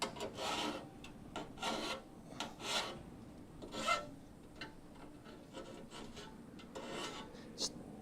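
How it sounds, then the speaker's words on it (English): A hand file rasps burrs off a metal frame rail patch in repeated back-and-forth strokes, close but fairly quiet, with an irregular rhythm and no talking. "let me get the file and file down those burrs"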